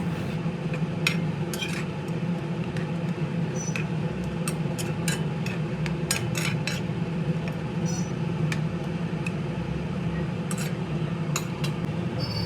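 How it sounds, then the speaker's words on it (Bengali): A spoon stirs fried rohu fish head into a simmering curry in a pot, giving scattered metallic clinks and scrapes over a steady loud background hum. "এই ঝোলের মধ্যে স্বাদ অনুসারে লবণের বাকি লবণটুকু ও ভেজে রাখা রুই মাছের মাথা দিয়ে ভালোভাবে নেড়েচেড়ে মিশিয়ে দেব"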